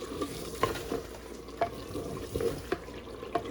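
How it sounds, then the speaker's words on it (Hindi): Chicken and tomato masala stir-fried in a pan for a Pakistani aloo chicken curry: a soft steady sizzle with recurring scraping knocks of a spoon stirring through the thick mixture, close and fairly quiet. "इस सारे मसाले को हम अच्छी तरह से भून लेंगे।"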